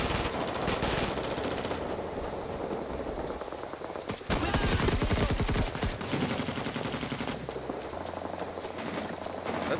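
Sustained bursts of machine gun fire in the Vietnam War shooter Rising Storm 2: Vietnam rattle loudly, with rapid repeated shots that intensify midway through.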